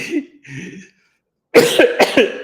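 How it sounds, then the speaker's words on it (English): A run of several harsh, wet coughs, loud and close, clustered in quick succession after a few soft vocal sounds, with no words spoken over them. "Oh my God, I've been coughing."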